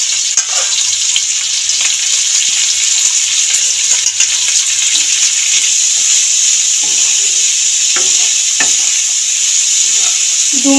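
Prawns, potatoes and boiled figs fry in a pan with milk added, giving a loud, steady sizzle throughout with scattered stirring scrapes and clicks, no voices.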